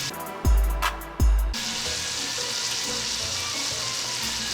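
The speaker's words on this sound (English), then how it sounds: "Let that get real hot, and then we're gonna pour some vermouth." Vermouth hits a hot pan with a loud burst of sizzling as the pan is deglazed, two heavy thumps giving way to a steady, close frying hiss.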